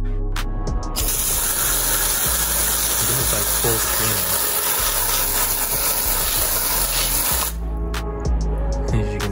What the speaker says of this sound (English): I'm gonna test how waterproof this tire paint is by spraying